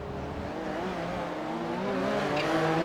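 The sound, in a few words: race cars driving flat out through a corner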